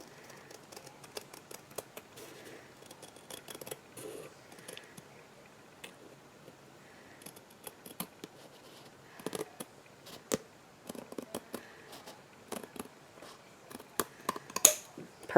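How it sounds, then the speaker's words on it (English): Scissors snip through card stock in a run of small, crisp cuts with pauses between them, close and fairly quiet, during Christmas card crafting. "I think I'll take my bigger scissors. And I'm going to cut this little bit off right here."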